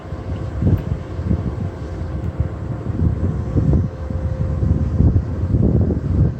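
Outdoor wind buffets a microphone in loud, uneven low rumbling gusts that swell and drop across the whole stretch, with no other sound coming through clearly.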